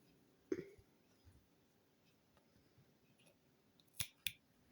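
Small scissors snip cross-stitch embroidery thread, giving a few faint, crisp clicks close by in an otherwise quiet room, with one soft snip early and a quick pair near the end.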